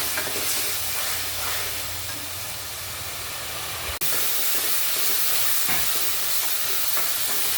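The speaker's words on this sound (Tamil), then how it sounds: "மசாலா நல்லா வதங்கணும்." Masala sautéing in a pan for mutton kuzhambu, a loud continuous hissing sizzle with a brief break midway, then steady frying noise again, no speech.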